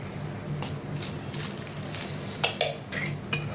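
Dried red chillies and a pinch of sugar stirred through hot oil in a pan, a steady soft sizzle under scraping spoon strokes with a few sharper metallic clinks near the end.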